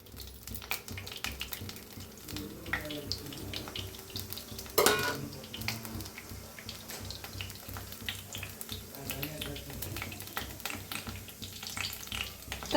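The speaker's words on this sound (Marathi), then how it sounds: "तर चांगलं फ्राय झालेलं आहे जिरं हे ना." Cumin, cinnamon, cloves and black pepper frying in hot oil in a pot, a steady close sizzle with light stirring and a brief sharper clatter partway through.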